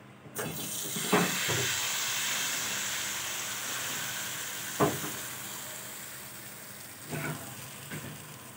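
Rice flour roti frying in ghee on a flat pan gives a steady, soft sizzle throughout, with a few brief taps or clicks now and then and no voices.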